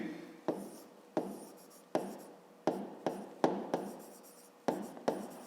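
Pen strokes on paper while writing out a fifth-grade maths solution, a series of about ten short, crisp scratching taps at uneven intervals, close and fairly quiet, with no voice.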